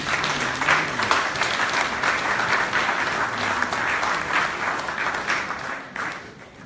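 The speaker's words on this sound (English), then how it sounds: "give the women and the ladies a hand clap, please" A church congregation claps for the women during a service, a warm, sustained round of applause that fills the room and tapers slightly toward the end, with faint voices murmuring underneath.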